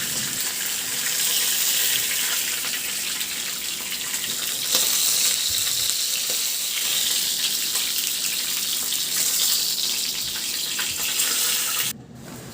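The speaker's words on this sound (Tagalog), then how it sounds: "Antayin lang na natin yan maluto yung kabilang side at saka baliktarin." Fish fries in a pan of hot oil while being cooked on one side before flipping, giving a steady loud hiss and sizzle that runs continuously before cutting off near the end.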